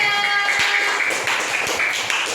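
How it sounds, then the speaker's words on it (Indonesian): Students in a classroom clap for a group after its presentation, a brief burst of fairly close, loud hand claps with uneven taps over some lingering voices. "tepuk tangan buat kelompok 3"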